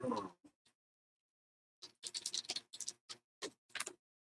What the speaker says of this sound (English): There's a rustle click from the clock as the hand passes 0, but no alarm sounds.